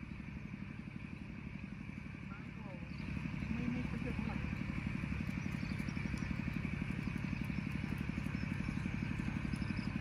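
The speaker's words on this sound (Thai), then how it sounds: "เครื่องคูบาต้าน่าจะเป็นการดูดน้ำหรือสูบน้ำออกจาก นาข้าวครับ" A Kubota engine pumping water out of a rice field, running as a steady mid-pitched chug close by and growing louder partway through, with a faint voice over the continuous drone.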